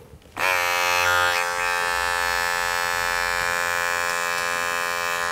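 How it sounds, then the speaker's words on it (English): An electric hair clipper with a number two guard switches on and runs with a steady, loud buzzing hum during a traditional men's haircut, starting on the side of the head, with no talking. "take my clipper and a number two grade, make sure it's on secure."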